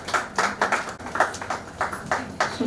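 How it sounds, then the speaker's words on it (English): Scattered hand clapping from a small audience at a book launch for a short story collection, welcoming the author with uneven, fairly close claps that continue steadily throughout. "Please welcome her with huge applause."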